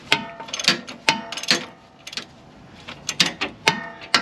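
A ratchet tightens the sway bar bush nut on a Land Rover, giving quick bursts of crisp clicking strokes separated by short pauses, close and clear.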